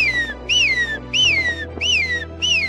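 A man whistles a repeated call to his goats, five rising-and-falling notes evenly spaced, loud and close, with a faint hum underneath.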